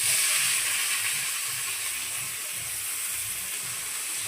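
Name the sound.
onion and capsicum sizzling in hot oil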